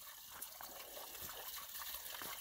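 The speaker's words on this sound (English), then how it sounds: "What I want to show here is this water source. This water is ice cold." Ice cold water flows and trickles at a trail water source on the Pacific Crest Trail near Snoqualmie Pass, a steady, fairly soft gurgling gush with little splashes throughout and no talking.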